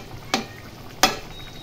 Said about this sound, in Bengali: ঝোল ফুটে গেছে, এখন আমি মাছ দিয়ে দেবো।